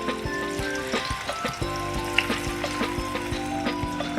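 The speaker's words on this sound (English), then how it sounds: "So here I've melted down about a tablespoon of butter. And to this, I'm going to add 1 cup of fresh mango." A cup of fresh mango cooking in about a tablespoon of melted butter, a steady close sizzle with regular stirring taps and clinks and a constant tonal hum in the background, no voices.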